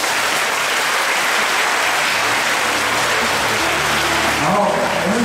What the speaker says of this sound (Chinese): 我们是不是给政权一个掌声？